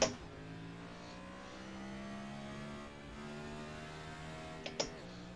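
A Next Gen race car engine in iRacing holds a steady high drone at the Texas oval, a sustained near engine note with a brief shift blip near the end and no talk.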